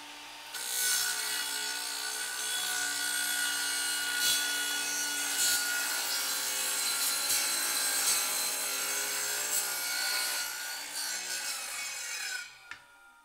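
A power saw cuts along a level clamped as a straightedge guide for home remodeling, a steady close whining rasp running for about twelve seconds with small bumps before winding down.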